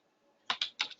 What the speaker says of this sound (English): so when you start typing